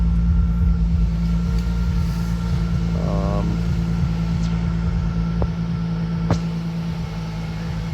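A 1994 Nissan Skyline engine idles steadily after a cold start, a continuous low rumble with a faint whine and a couple of brief clicks, close by and with no talk over it.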